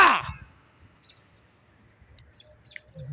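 A crow-like bird calls from a tree in a few short, fairly distant caws and chirps over quiet outdoor background, after a loud opening thump.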